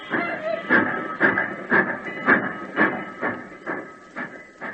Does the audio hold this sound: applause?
no